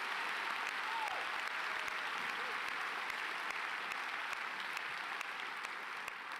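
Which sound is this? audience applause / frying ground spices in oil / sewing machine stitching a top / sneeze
audience applause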